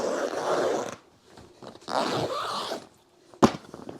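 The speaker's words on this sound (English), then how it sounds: "simply zip it up." Fabric underbed storage bag being zipped closed, two long zipper pulls with a pause between them, close and fairly loud, ending in a sharp click or tug.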